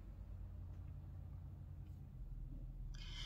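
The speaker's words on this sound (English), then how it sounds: "And I can still somewhat hear a truck," A low, steady engine rumble comes from a truck in the background outside on a residential street, faint and continuous throughout, with a brief higher rustle near the end.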